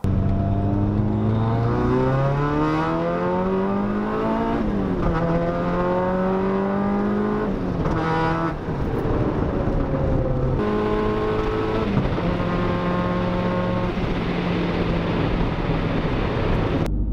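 A car engine with a Megasquirt-tuned launch control revs up repeatedly through rising gear pulls, the pitch climbing steadily and dropping at each shift, loud and close throughout.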